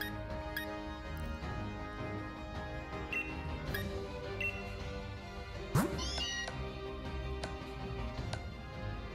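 A Meowth cry from the Pokémon Sword and Shield video game, one short rising meow sounding over quiet game music and small ticking effects.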